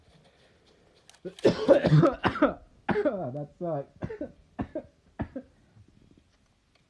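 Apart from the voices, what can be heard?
coughing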